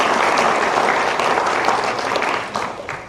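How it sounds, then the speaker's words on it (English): A crowd gives loud, sustained applause at the opening ceremony of the FIRST Tech Challenge Australian robotics championship. The clapping is close and full and fades slightly toward the end. "Let's give them a huge round of applause for their interview."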